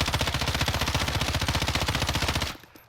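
An M13 rifle with suppressor, foregrip and laser attachments fires a rapid, evenly spaced automatic burst in Call of Duty Warzone, loud and close, lasting over two seconds before cutting off.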